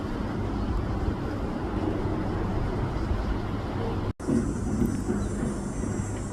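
A United Boeing 737 MAX 9 jet airliner passes overhead near a house, giving a broad, steady roar at moderate distance with no talk, briefly cut by a short dropout.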